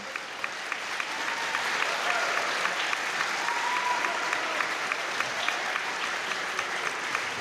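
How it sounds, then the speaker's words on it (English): A standing crowd gives a sustained round of applause for an athletic Hall of Fame class at an evening induction ceremony, steady clapping with occasional louder claps, moderately distant throughout. "give one more big round of applause to the 2025 Hall of Fame class"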